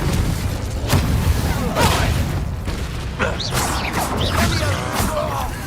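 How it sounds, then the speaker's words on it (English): An Incendio fire spell is cast in the Hogwarts Legacy video game, giving several whooshing magical bursts and crashing impacts over loud combat noise with continuous dense background sound. "I learned this new spell. Incendio!"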